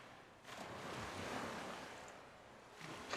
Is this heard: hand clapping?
no